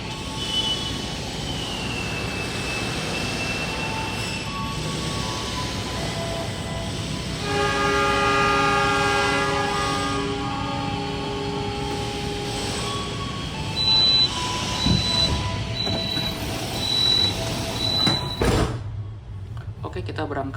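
A luxury passenger train pulls out of Purwokerto station in Indonesia, with a steady rumble of wheels and running gear and sustained horn-like tones in the middle. The sound is near and continuous, and faint voices come through.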